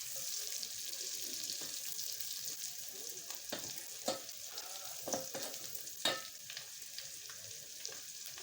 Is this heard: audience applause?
no